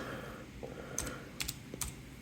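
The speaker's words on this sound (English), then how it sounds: "Let's go ahead and type something." Fingers type on a Bluetooth keyboard paired with a Samsung tablet, giving a few quiet, quick clicks in small bursts, close by and faint, with no voices.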